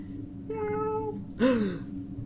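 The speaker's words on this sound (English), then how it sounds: "It's actually a cat." A cat in the video game Fran Bow meows twice, a drawn-out tonal cry followed by a louder, sharper falling meow, close and clear over a quiet background.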